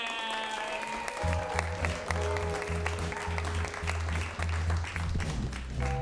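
Audience applause and cheering at a live comedy show as a comedian is introduced at Helium Comedy, clapping swelling over loud walk-on music with a steady thumping beat and bright tones.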